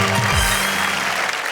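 A live audience at a Hindi comedy poetry show claps in a loud, dense burst of applause that carries on evenly without a break.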